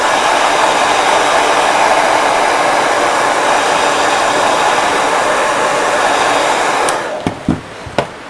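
A heat tool blasts a loud, steady whirring hiss while drying Distress ReInker paint, running continuously before cutting off, followed by a few soft knocks.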